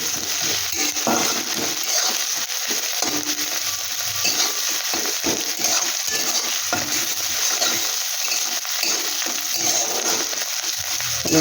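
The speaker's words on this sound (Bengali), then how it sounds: "এটা নিয়ে একটু ভাজা ভাজা আমি ভালো করে নেব।" Ginger and garlic paste frying in a pan for an egg and aubergine bharta, a constant close sizzle with irregular light scraping of stirring.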